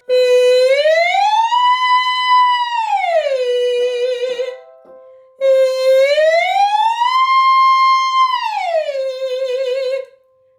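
A singer's voice imitates an ambulance siren during a vocal warm-up, gliding smoothly up and back down twice in loud, sustained sweeps separated by a short pause.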